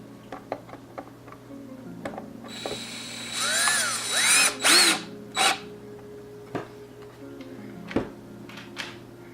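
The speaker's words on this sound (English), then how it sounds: "And now we get to do some more power drilling" A power drill works on turntable parts in short, loud whining bursts of rising and falling pitch, with small clicks and handling taps before and after.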